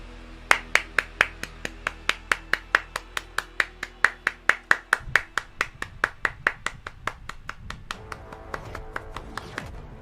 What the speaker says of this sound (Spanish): Aplauso sublime este juego